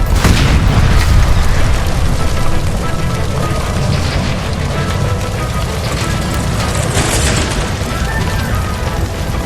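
A sustained, loud, roaring blast follows a gas line explosion in the L.A. Noire video game. Dense low rumble and crackling debris fill the whole stretch without letting up.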